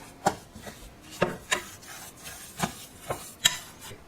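A spoon scrapes and stirs thick carrot cake batter studded with raisins in a bowl, making a steady run of close, rough rubbing strokes at about two per second, with no voices.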